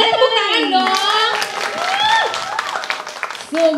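Audience claps at a talent judging event while lively high voices, including children's, talk and exclaim over the top, the clapping patchy and partly masked by chatter.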